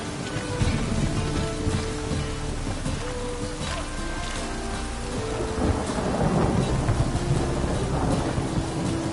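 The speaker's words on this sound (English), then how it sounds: "And it's raining again." Steady rain pours throughout while deep rolls of thunder rumble underneath, swelling louder toward the end, in The Witcher video game.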